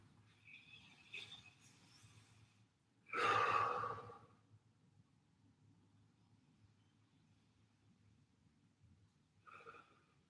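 A single deep breath during a seated yoga stretch, a strong airy exhale about a second long rising out of near silence, with a fainter breath near the end.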